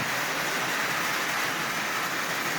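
A prewar Marx Canadian Pacific toy locomotive runs on track, giving a dense, steady mechanical rattle and whir that stays constant and close throughout.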